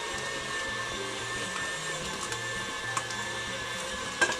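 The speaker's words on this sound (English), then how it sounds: "it's definitely going to give the mixer a good workout" A stand mixer works chocolate babka dough, a steady motor whir with a low rhythmic labouring hum and occasional knocks as the dough slaps around the bowl, moderately close with no voices.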